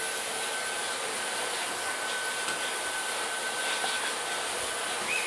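A Miele Red Star vacuum cleaner runs in a steady, continuous whine with a broadband airy roar, used on a bed to pick up Maine Coon cat fur, holding an even level throughout with no speech.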